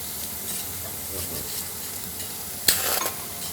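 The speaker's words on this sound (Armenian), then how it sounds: "լոլիկն էլ արագ-արագ տապակենք" Tomatoes frying quickly in a pan with meat and onions for a Gyumri-style tava dish: a steady close sizzle, with a sudden louder hiss flaring near the end.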